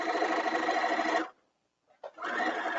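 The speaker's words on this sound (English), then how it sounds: "Now I'm going to go over like a 1/16 of an inch and do another straight stitch right next to that." A sewing machine runs a straight stitch on silk in a steady, close whirring burst, stops for under a second, then starts again briefly and runs on.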